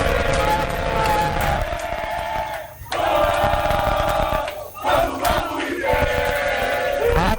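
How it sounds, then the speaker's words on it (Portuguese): Internacional supporters chant loudly outside their team hotel in Rio, a dense, sustained crowd roar with rhythmic singing that briefly dips twice before surging back. "Esse é o som da torcida por aqui."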